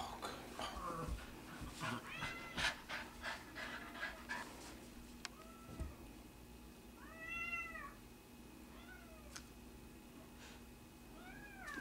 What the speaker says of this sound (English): So, Michael, what's wrong with the cat